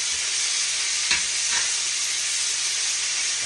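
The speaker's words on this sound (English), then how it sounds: "I'm going to get these stirred around a little bit." Bacon frying in a pan and being stirred, a loud, continuous crackling sizzle close up, with a couple of faint scrapes of the utensil against the pan.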